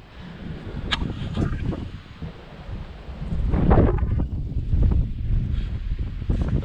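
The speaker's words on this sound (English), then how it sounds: "it's so freaking windy out that it'd just be a terrible video" Strong outdoor wind buffets and roars in uneven gusts. The gusts build toward the middle and stay loud, with no one speaking.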